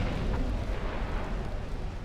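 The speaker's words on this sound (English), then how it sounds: "Oh, we hit him with a torpedo." Torpedo striking an enemy warship in Ultimate Admiral: Dreadnoughts, a dense rumbling explosion roar sustained for a couple of seconds, loud and unaccompanied by talk.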